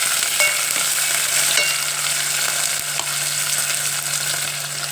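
Onions and green chillies frying steadily in a pan for curry, a loud continuous sizzle with small crackles throughout, no voices.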